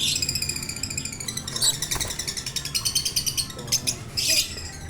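Many birds chirp and squawk together in a busy, continuous chorus, with sharp high calls repeating close by.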